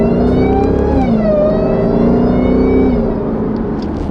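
A Jeep Trackhawk engine revs and accelerates hard, its loud rising and falling tone pulling through a gear change, close and continuous with no voices.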